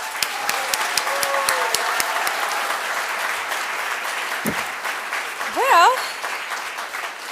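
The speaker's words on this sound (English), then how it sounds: "let's give a hand clap for all of our speakers today" An audience at the 2022 Institute of Design commencement ceremony applauds the speakers with steady, sustained clapping that fills the hall, while a voice talks over it and a brief whistle-like tone rises near the end.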